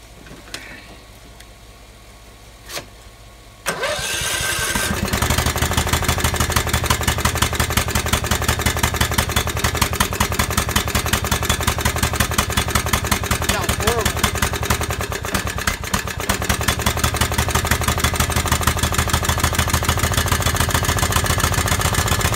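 A Duramax diesel truck engine cranks and fires up after a few seconds of quiet, then settles into a steady, loud, rhythmic idle that runs close to the microphone for the rest of the clip.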